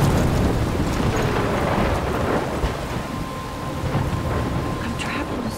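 A thunderstorm in the video game Life is Strange: heavy, constant rain hiss with deep rolling thunder rumbling throughout, loud and enveloping with no speech.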